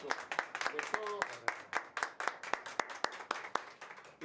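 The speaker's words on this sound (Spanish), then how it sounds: "con el aplauso de todos" Sparse, steady hand clapping from a small group honoring a transport worker, distinct individual claps in a regular rhythm with a brief voice heard early on.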